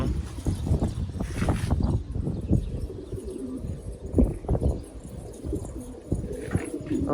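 A flock of pigeons, nearly all young birds with one adult among them, coos and flutters close by in uneven bursts, with wind noise behind and no talking.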